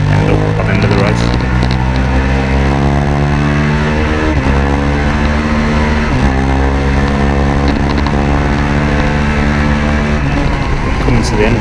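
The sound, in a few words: Minitwins racing motorcycle onboard at Oulton Park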